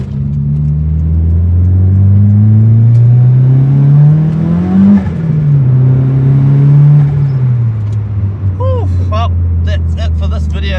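Melbourne city traffic heard from inside a turbocharged 4G93 SOHC Mitsubishi build, with a steady low engine drone that rises and falls as the car moves, loud and close, with a few brief clicks near the end.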